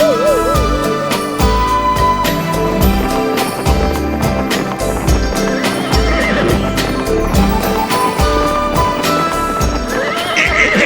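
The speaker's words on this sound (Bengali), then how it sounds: "আমার ঘোড়াটা এমন চেঁচাতে শুরু করলো কেন?" A horse neighs loudly and repeatedly up close, its whinnies carried over busy background music with clip-clop hoofbeats.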